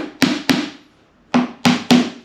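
Five sharp hammer taps on a flat-pack pantry cabinet part, struck close by in two groups: two quick knocks, a short pause, then three more evenly spaced blows, each with a bright attack and short ringing decay.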